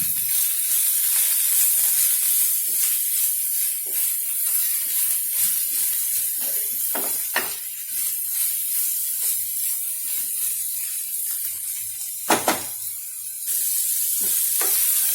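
Shredded cabbage poriyal stir-frying in a pan with salt and turmeric: a steady close sizzle runs throughout, broken by occasional sharp scrapes and clatters of a spoon mixing the vegetables. No one speaks.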